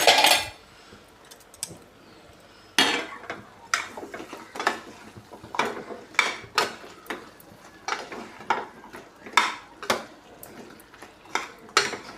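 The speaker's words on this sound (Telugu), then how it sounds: "ములక్కాళ్ళు కట్ చేసి ఉంచుకుని ఇందులో వేసేద్దాం అండి వేసేసి శుభ్రం కలుపుకుందాం" Cut drumstick pieces are tipped into a curry in a metal pan and stirred, giving a run of sharp spoon-on-pan clinks and scrapes in an irregular rhythm, close and clear, with no talking.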